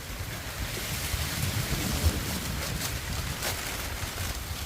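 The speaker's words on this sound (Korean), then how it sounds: "갑자기 비가 옵니다" Sudden rain shower over a Shine Muscat grape field at harvest time, a steady broadband hiss with low rumbling wind noise throughout, no voices.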